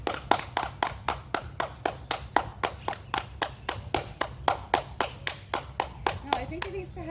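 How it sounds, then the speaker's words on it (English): Hands clapping at a Mayan site, a steady run of about twenty sharp claps, each ringing with a short echo under quiet background. "When I'm clapping over here, it reverberates over here"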